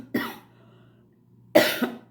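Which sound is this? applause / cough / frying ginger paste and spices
cough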